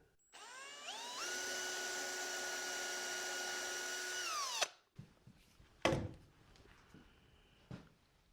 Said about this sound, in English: So I'm using a drill to pre-drill into the seat.